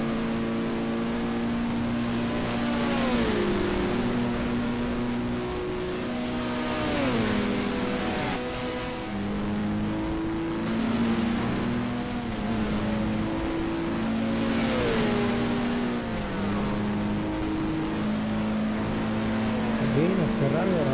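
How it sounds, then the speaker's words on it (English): Racing car engines from the GTR2 game at Monza, with a Ferrari or red Alfa Romeo leaving the pit: a steady engine drone with repeated rising rev sweeps and gear changes, continuous and fairly loud, with talk underneath. "Again, a Ferrari or a red Alfa Romeo coming out from the pit."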